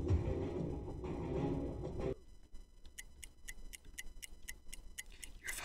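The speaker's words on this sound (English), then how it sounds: "or is that the clock ticking?" In the Roblox game The Trials, a clock ticks in a steady, evenly spaced run of sharp clicks after a burst of louder game noise, faint and alone with no talk.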